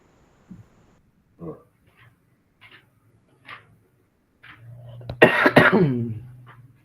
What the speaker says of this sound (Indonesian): Maaf saya sedikit batuk ya Kak ya.